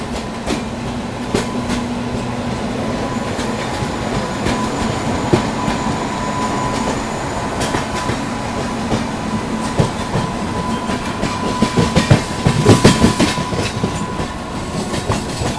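The 12907 Maharashtra Sampark Kranti Express sleeper train rolls at Bandra Terminus railway station in Mumbai, with continuous loud rumbling, clickety-clack wheel beats and faint squeals.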